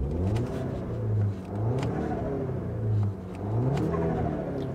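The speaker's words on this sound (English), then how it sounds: "The turbo sound is definitely a lot louder, and now I actually hear sucking noise from the intake." Heard from inside an Audi A4 B8.5 with the windows up, the turbocharged engine revs in repeated surges through a cold air intake, rising and falling with a whooshing intake draw and a faint whir.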